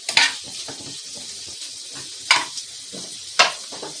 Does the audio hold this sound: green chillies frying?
yes